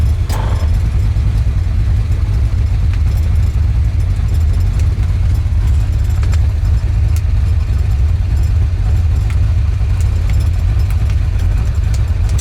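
A 1966 Ford Mustang idles with a steady, loud low exhaust rumble that holds unchanged throughout, close by and with no talking over it.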